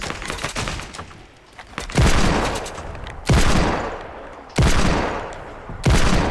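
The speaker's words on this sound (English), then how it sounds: "Stop shooting, I'm gonna try and snipe." Gunfire in Fortnite, with sharp loud shots landing about every second and a half, each followed by a long decaying crackle and echo, alone without talk.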